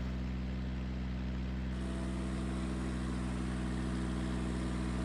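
An old International tractor engine runs at a steady low idle while towing another heavily loaded tractor at night, a constant droning hum with no talk.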